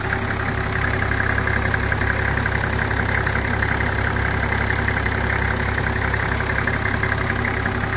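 A Toyota Land Cruiser 80 40th anniversary with a stock 1HZ diesel engine and added turbo kit idles steadily, a loud, even, continuous rumble with a faint whine on top and no talking.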